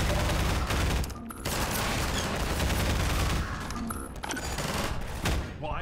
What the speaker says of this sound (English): Okay, I'm shooting my friends again.